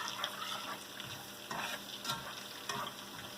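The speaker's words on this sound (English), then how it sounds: "That's sausage and Crisco, and I'm just cooking it up" Sausage and Crisco sizzle in a pan as a utensil stirs and scrapes through it in a few distinct strokes, a quiet, close frying hiss with no voices.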